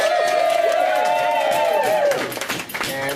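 Theatre audience applause and cheering after a musical documentary performance, clapping mixed with whoops and a sung or sustained vocal tone on top, fading toward the end.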